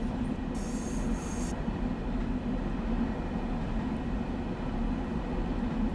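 Train Sim World 2 train on the Harlem Line easing its speed, a steady low rumble of rolling wheels and motor with a brief high squeal near the start, no talking.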